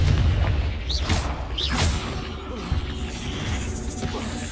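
Spells go off in Hogwarts Legacy gameplay: several sharp whooshing bursts and booms rise over a dense, continuous game soundscape, loud and close.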